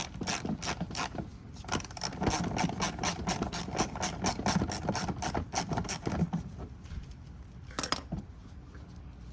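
A ratchet backing out two 10mm bolts holding bumper trim on an Acura ZDX: rapid, close clicking in long bursts, loud and steady, then a brief pause and a few final clicks, with no talk.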